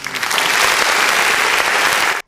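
Enthusiastic applause from a studio audience on a live game-show broadcast, a dense, steady wash of clapping close by that cuts off abruptly at the end.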